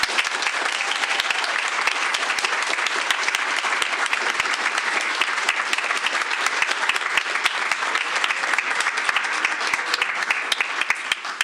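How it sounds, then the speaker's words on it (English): Audience at a school board meeting applauds honored students, a steady, dense wash of clapping from many hands that holds for the whole stretch without a break or any voices. "please give these fine students a round of applause"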